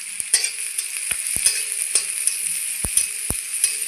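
Chopped onion and green chilli frying in a pan, a steady high sizzle with a spoon scraping and knocking against the pan every so often, close and clear with no talking.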